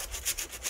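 Rough rubbing strokes as glue is spread across a piece of wood, a quick back-and-forth scrape repeated about four times in under a second, close and alone.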